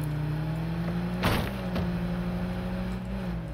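A steady, droning car engine hum in Halo 5, with a low, buzzy tone, interrupted briefly by a dull thump partway through.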